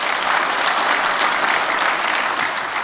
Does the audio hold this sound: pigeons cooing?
no